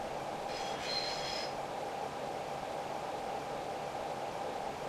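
A 681 series Hakutaka train from the Densha de Go! 2 game runs along the Hokuhoku Line with a steady, muffled rolling rumble and hiss, and a brief high squeal near the start.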